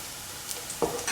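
Onions sauté in a pan for a mushroom and ash gourd stew, a soft continuous sizzle broken by a couple of brief stirring scrapes near the end, close and quiet.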